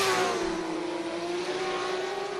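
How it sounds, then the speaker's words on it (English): Drag racing car in the burnout box at a drag strip event, a loud, sustained engine roar with a steady high tone held throughout, heard from a distance without talk. "I heard a car in the burnout box, and then I heard a car stop in the burnout box"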